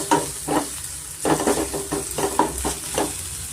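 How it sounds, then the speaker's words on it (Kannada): Ginger and garlic fry in oil for a jackfruit seed curry, a close, loud sizzle punctuated by a regular series of stirring scrapes from a spoon against the pan. "ಅದನ್ನು ಸ್ವಲ್ಪ ನಾನು ಎಣ್ಣೆಲಿ ಚೆನ್ನಾಗಿ ಫ್ರೈ ಮಾಡ್ಕೊಂಡಿದ್ದೀನಿ"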